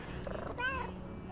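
A cartoon cat meows in the cozy video game Little Kitty, Big City, a short rising-and-falling call near the middle, set against a soft continuous game background.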